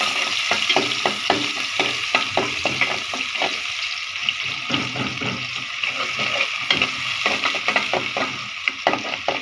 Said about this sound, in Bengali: তেলটা গরম হোক। এই তো পেঁয়াজগুলি দিয়ে নিচ্ছি।